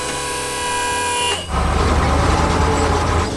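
Blue 3D-animated truck hauling a heavy load: a steady horn-like tone gives way after about a second and a half to a loud, continuous rumbling engine drone that carries on to the end, with no talk.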